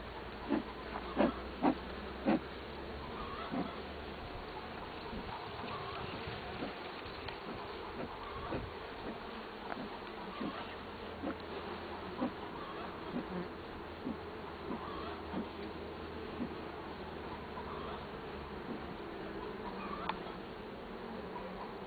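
A dense, steady buzz of many honey bees at an opened hive, low and continuous, with scattered louder passes of individual insects near the microphone.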